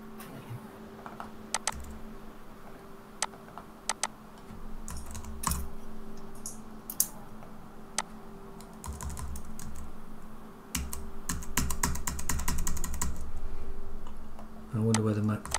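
Steady typing on a computer keyboard, with irregular clusters of sharp key clicks and a faster burst near the end, over a low background hum.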